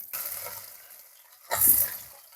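Curry leaves stirred into shrimp thoran frying in a pan, a brief scrape and hiss followed by a louder, brighter sizzle burst, close up with no talk.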